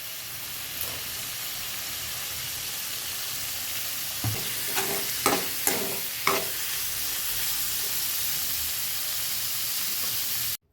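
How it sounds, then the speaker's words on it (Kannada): Cubed paneer frying in a little oil in a home kitchen pan, a steady soft sizzle and hiss with a few sharp clinks and scrapes of stirring in the middle, ending abruptly. "ಮೊದಲಿಗೆ ಪನ್ನೀರನ್ನ ಸ್ವಲ್ಪ ಫ್ರೈ ಮಾಡ್ಕೊಳ್ತಾ ಇದ್ದೀನಿ"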